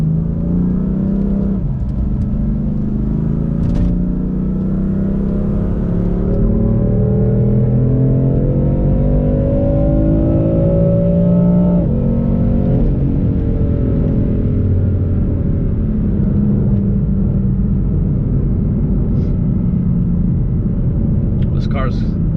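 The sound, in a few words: BMW M3 F8x engine revving, stock exhaust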